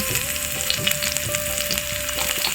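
Onion paste and chopped onion fry in a pan with a little oil, a steady, close sizzle crackling with small pops and occasional stirring scrapes throughout.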